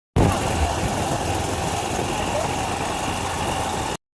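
A motorbike engine idles in a steady, even rumble close by, running without a break for about four seconds before cutting off abruptly.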